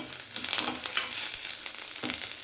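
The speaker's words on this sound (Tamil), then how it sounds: "அடுத்ததாக இந்த கொத்தமல்லியும் சேர்த்து லேசாக வதக்கி விட்டுக்கலாம்." Coriander leaves sautéing in a pan with roasted dal for banana stem chutney, a close continuous sizzle with soft stirring scrapes, no voices.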